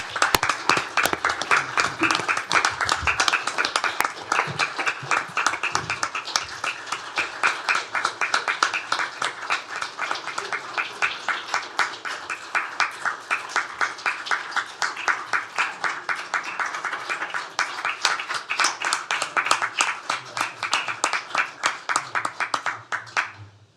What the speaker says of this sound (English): And let's give you a round of applause.